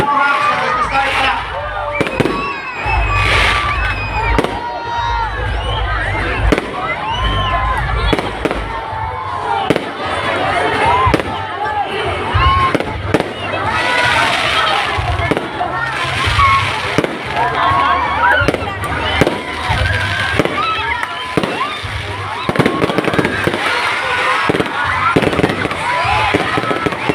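Fireworks bursting at a plaza opening celebration, loud repeated booms and crackles over a cheering crowd, with people talking and shouting throughout.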